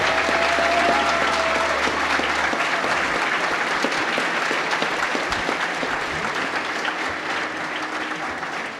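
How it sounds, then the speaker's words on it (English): Audience applause fills a Super Metroid speedrun race event at SGDQ, a dense sustained clapping that carries steadily for about nine seconds and tapers slightly toward the end. "let's get a round of applause for Zoast, everybody."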